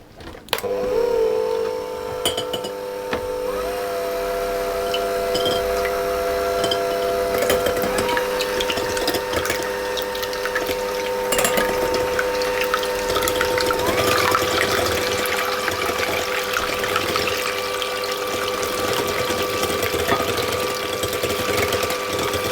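An electric mixer whisks eggs and sugar for a gluten-free lemon rice cake. The motor whines steadily throughout and its pitch steps up a few times, with faint rattling from the beaters in the bowl.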